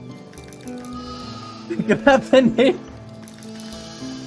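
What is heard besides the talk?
sheep bleating in the video game Foundation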